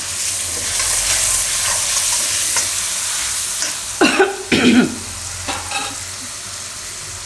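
Rice fries and sizzles steadily in hot oil for a Gujarati tomato rice dish, with a few louder scrapes and clatters of a spoon stirring the pan midway and no talk.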